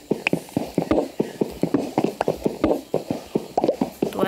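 Horse hooves clip-clop in the Minecraft video game, a steady run of sharp, evenly spaced hoof taps, close and fairly loud, with no talking over them.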